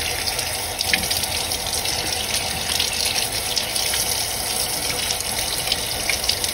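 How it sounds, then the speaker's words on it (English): Tap water runs steadily as a blue crab is rinsed under it, a constant close splashing hiss with no talk. "Give it a rinse."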